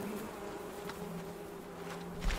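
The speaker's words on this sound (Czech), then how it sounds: "Ale behajú tu tie včely, či čo to je." Bees buzz in the video game Fortnite with a steady, mid-loud drone that holds a constant hum throughout, and a brief thump near the end.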